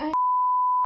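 A single steady censor beep cuts across speech in a broadcasting class recording, a loud pure tone lasting most of a second, with talk just before and after it.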